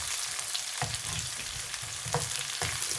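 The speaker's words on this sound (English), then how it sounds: "I'm gonna add half thinly sliced onion along with half capsicum and fry" Thinly sliced onion and capsicum fry in a pan over cumin seeds for peri peri chicken, a steady close sizzle broken by a few sharp stirring scrapes, with no voices.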